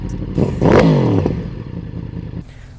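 A Ducati Multistrada 1260S motorcycle engine revs up loudly and close by, with a rising then falling pitch, and settles back to a rough idle that fades and then swells again.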